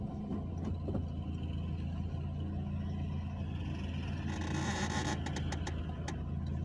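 A car drives with a slightly creaking clutch, giving a steady low engine and road rumble throughout, with a brief patch of scratchy noise near the end.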